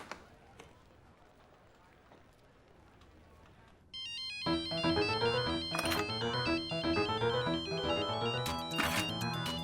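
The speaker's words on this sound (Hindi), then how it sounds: "राज का फोन।" A telephone ringtone starts partway through and keeps going, a loud repeating electronic melody that follows a quiet stretch of soft background room noise.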